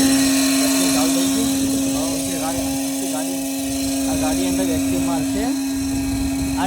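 A loud, steady motor drone with a constant high whine from a car wash vacuum cleaner running close by, while people talk over it.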